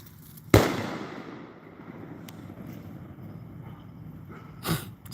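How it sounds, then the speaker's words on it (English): A neighbor's single firework bursts with one sharp loud bang, then a faint crackling tail over quiet wind-like background, followed later by a softer second pop. "here's my neighbor with the one firework"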